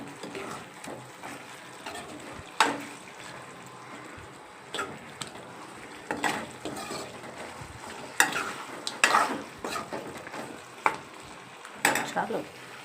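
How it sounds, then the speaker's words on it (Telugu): Chicken liver and chicken pieces frying together in a pan, with a steady sizzle broken by repeated scraping and stirring clatters at an irregular pace, close and fairly quiet. "చికెన్ లివరు, చికెన్ పీసులు రెండు కలిపి ఫ్రై చేస్తున్నాను."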